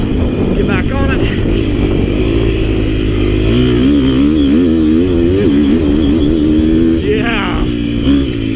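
A KTM 250 XC-F dirt bike engine drops a gear and accelerates off-road, its buzzing note wavering and climbing steadily, with a rider's voice heard over the engine.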